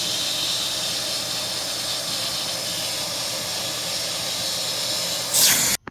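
A Nilfisk HDS1005 pressure washer with a damaged body runs on its high setting, producing a steady, loud airy hiss and spray rush that cuts off abruptly near the end.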